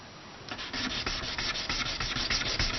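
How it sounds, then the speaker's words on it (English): Quick, quiet rasping strokes of 500 grit sandpaper polishing the edges of a measuring cup handle, a close, continuous scratchy rubbing with a steady rhythm. "500 grit paper here, and I'll just give it a nice fast clean polish"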